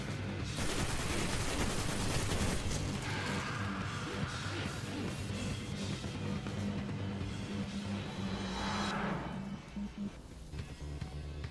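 Sustained heavy weapons fire from the video game Destiny, with a rocket launcher among dense, continuous blasts and explosions that stay loud throughout, easing slightly near the end.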